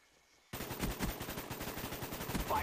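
Rapid automatic gunfire from the Call of Duty Black Ops video game bursts in loudly after a short quiet lead-in and keeps going as dense, repeated shots to the end.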